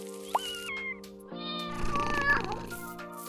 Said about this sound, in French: On a fabriqué un petit chat.